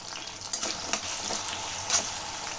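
Small shallots frying in oil in a pan for a Tamil fish curry, a steady bright sizzle with a few louder crackling bursts as they are stirred, close and without talk.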